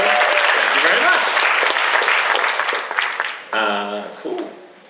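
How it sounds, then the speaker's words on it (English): Dense audience applause for a cosplayer at a convention cosplay competition, loud and sustained, then tapering off as a voice speaks near the end. "Round of applause for Emily, ladies and gentlemen"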